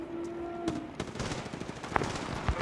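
Automatic gunfire in the mobile shooter game Apex Legends Mobile, with dense rattling bursts of rapid shots and sharp cracks over continuous game noise, loud and close, with no voices.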